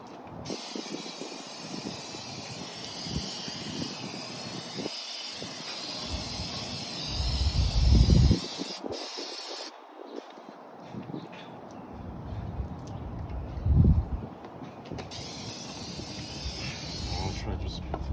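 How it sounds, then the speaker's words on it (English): Cleaner is sprayed around the valve cover gasket area of a 2010 Mitsubishi Galant engine in close, hissing aerosol bursts that run on and off for several seconds, with speech and handling thumps mixed in. "Just spray a little bit everywhere, and especially inside there where the new gasket is gonna go"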